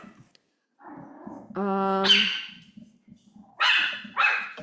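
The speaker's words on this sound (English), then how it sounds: "She's our most vicious dog." A dog barks and yips several times nearby, including a drawn-out whining howl, in short loud bursts separated by quiet gaps.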